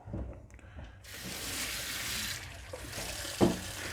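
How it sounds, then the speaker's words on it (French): Tap water runs into a kitchen sink while a Tunze 9410 DC aquarium protein skimmer from an Osaka 260 reef tank is cleaned; a quiet start gives way to a steady broadband splashing rush, with a brief clink near the end. "On se retrouve dans l'évier, donc là je vais nettoyer l'écumeur."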